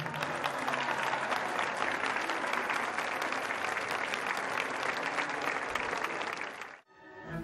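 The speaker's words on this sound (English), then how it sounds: "received a round of applause" Audience applause after a violin performance at an outdoor music festival in Casal Velino, Italy, a dense sustained clapping from a crowd that continues steadily for several seconds, then cuts off abruptly near the end.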